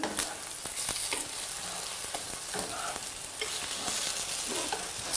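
Close, continuous sizzling of food frying in a pan as pieces are turned over, with scattered scrapes and taps of the utensil over the hiss.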